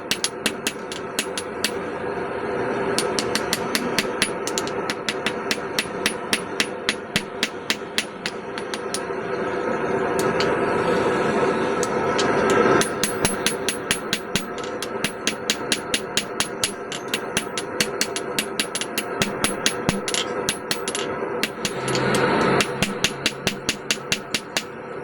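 A blacksmith hammers hot steel stock while hand forging an anvil hardy tool, giving a steady run of sharp, ringing hammer strikes at close range. The blows repeat rapidly and evenly for the whole stretch over a constant workshop rumble.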